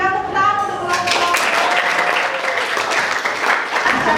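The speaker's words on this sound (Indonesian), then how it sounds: "mari kita berikan tepuk tangan" A classroom audience bursts into applause after a brief tone, the clapping dense and sustained for several seconds, with some voices mixed in.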